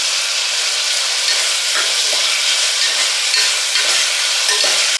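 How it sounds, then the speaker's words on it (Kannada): Tomatoes with a little salt frying and being stirred in a pan for vangi bath make a loud, steady, close sizzle, with brief scraping stirs breaking through it and no talking. "ಮೆತ್ತಗಾಗೋವರೆಗೆ ಫ್ರೈ ಮಾಡ್ಕೊಳ್ಳಿ."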